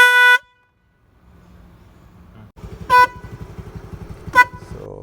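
Aftermarket car-style horn fitted to a TVS Jupiter scooter honks in three short loud blasts, the first alone and the later two over the scooter's idling engine rumble.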